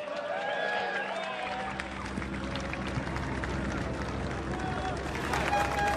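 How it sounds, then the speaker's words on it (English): A crowd applauding the Sauber F1 team's third place at a raft race event, a broad steady wash of clapping and cheering that swells toward the end, with an announcer's voice over it. "a big round of applause for the Sauber F1 team"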